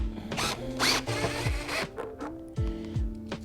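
A power tool breaks loose bolts on a Yamaha FZ-07/MT-07 motorcycle's plastic body panels, sounding as several short, close whirring bursts with brief pauses between them, no talk.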